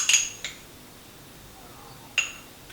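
Ingredients for cashew cocoa energy balls are tipped into a bowl, with a few sharp metallic clinks of spoons against the bowl: two quick knocks at the start, then another after a short pause.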